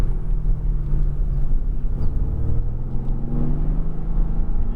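Mercedes-AMG GT R engine on a race track at Nelson Ledges, a steady low rumble with harmonic drone as the driver eases onto the throttle, close and continuous with no talk.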